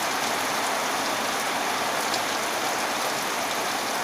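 Steady, heavy rain pours down during an early-morning storm, a dense continuous hiss of drops on surfaces with no pauses and no voices.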